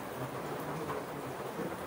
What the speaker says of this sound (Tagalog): pero panay ulan